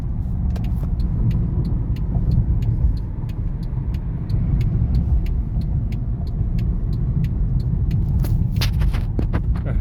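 Mercedes-Benz car with a 722.9 automatic transmission being driven after a gearbox control unit replacement, a steady low engine and road rumble from inside the cabin, with faint regular clicks over it and no talk.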